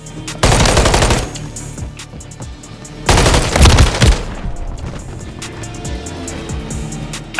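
A gun firing in a multiplayer gun game match, two loud sustained full-auto bursts close up, then quieter scattered game noise.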